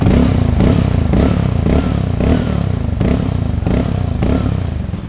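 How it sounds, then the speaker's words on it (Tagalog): Vespa Primavera scooter exhaust fitted with a Villain GP2 silencer: a loud, close, steady idle with a throbbing, slightly rattly pulse, no voices. "So, ito tunog ng Vespa Primavera pag naka-silencer sa GP2."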